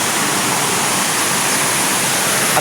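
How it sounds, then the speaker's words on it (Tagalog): Flowing stream of water running out from two resorts, a loud, steady rushing wash of water close by with no speech over it. "Yan, agos yan ng dalawang resort."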